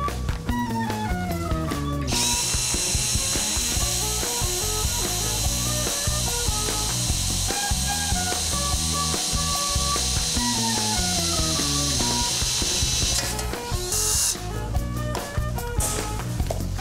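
A power drill whines steadily while boring into oiled metal, with grinding, clicking mechanical noise and a high shrill tone over most of the stretch.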